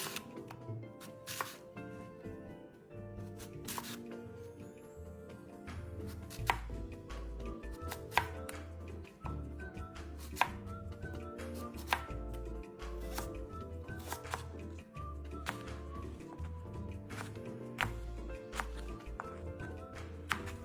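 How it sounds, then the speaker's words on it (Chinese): A knife dices an apple on a cutting board in sharp, rapid chops that come in short steady bursts, close and clear, with no speech. "苹果1个，洗净后切成丁。"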